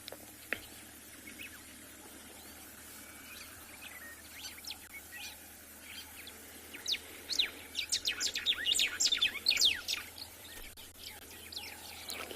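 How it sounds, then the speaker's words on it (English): White-browed sparrow weavers give sharp, high chirping calls at a sunrise safari, a sparse scatter of faint notes that builds into a busier burst of overlapping calls toward the end over quiet outdoor background. "The very sharp calls here. On the right, that's the white-browed sparrow weaver."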